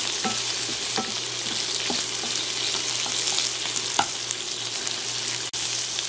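Seaweed stir-frying in a pot gives a steady, dense sizzle with occasional scraping clicks and taps from a utensil, close and continuous with no talking.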